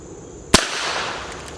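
A single sharp crack of a Heritage Rough Rider .22 caliber single action revolver firing at steel plates, close and loud, followed by a short decaying outdoor echo.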